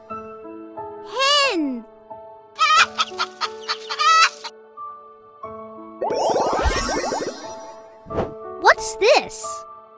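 A hen clucks in a series of short, rhythmic, close calls, mixed with a rooster crowing, a brief chime and a voice speaking.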